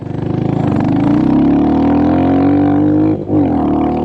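Royal Enfield 350 custom Mongoose motorcycle engine running loud and close, a steady throbbing exhaust note that holds even for about three seconds, dips briefly, then picks back up.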